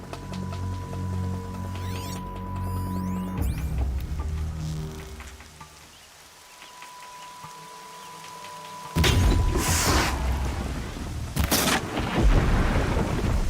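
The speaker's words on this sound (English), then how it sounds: "Raining, huh?" Rain hisses steadily with a deep thunder boom, then heavier bursts of downpour crash in, loud and close, amid game-like tones and effects in Horizon Zero Dawn on PC.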